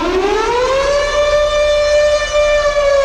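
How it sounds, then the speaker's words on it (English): A loud air raid siren winds up from a low pitch and holds a steady wailing tone, rich in harmonics, sounding alone throughout. "I'm going to go for this big, juicy air raid siren"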